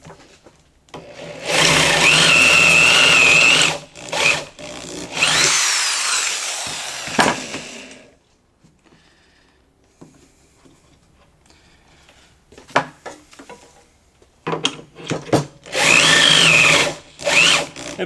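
Push drill bit boring into wood to cut a mortise joint on a PantoRouter-style jig. Loud powered drilling comes in bursts separated by quieter gaps and softer handling knocks.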